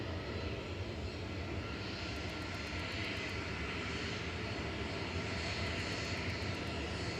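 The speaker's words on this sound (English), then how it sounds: "This is Ryanair off to Rome, CIA." Ryanair airliner taking off from Manchester Airport bound for Rome, its engines a steady, loud broadband roar that holds without a break throughout.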